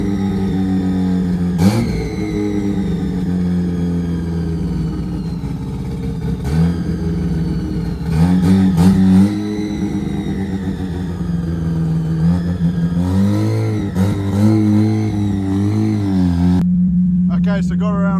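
Mazda RX-8 with a turbocharged bridgeport Renesis rotary engine driving on the road, its steady engine drone sustained throughout with a few brief revs, under continuous talking.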